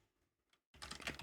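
Keys on a computer keyboard are tapped to enter a search, a few faint isolated taps and then a close, quick burst of keystrokes.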